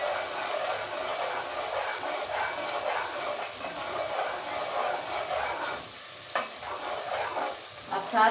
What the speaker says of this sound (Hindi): ये मैंने अदरक लहसुन का जो पेस्ट डाला था ये अच्छी तरह भून चुका है